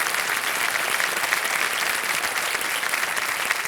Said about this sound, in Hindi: तालियों के साथ इनका हम अभिनंदन।